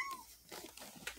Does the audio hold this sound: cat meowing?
yes